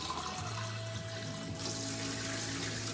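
Water pours steadily into a pot of curry being cooked, a continuous rushing splash close by that swells slightly in brightness partway through, with a low hum underneath.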